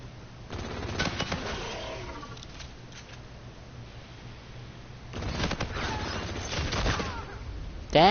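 Rapid automatic gunfire from a fast-firing secondary SMG in Call of Duty Infinite Warfare, two dense bursts of quick shots with quieter game sounds between.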